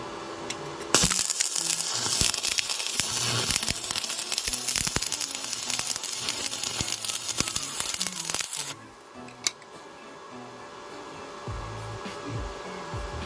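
An arc crackles and sizzles from a REAIM 2-in-1 inverter welding machine during a test weld. The sound is loud and close for about eight seconds, then stops abruptly, leaving quiet room noise.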